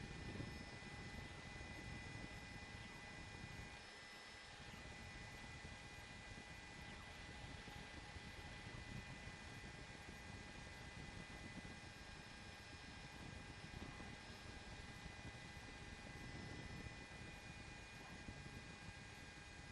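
Steady broadband rotor and engine drone of a police helicopter hovering overhead during a stolen-vehicle pursuit in Los Angeles, continuous and fairly distant with no talk.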